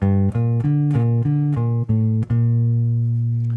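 A bass guitar plays a short solo phrase of about eight plucked low notes in steady rhythm, ending on a held note that rings out.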